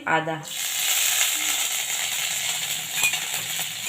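Ginger sizzles loudly in hot oil with toasted whole spices, a steady close crackling hiss that follows a short stir, with occasional clinks of a spoon against the pan.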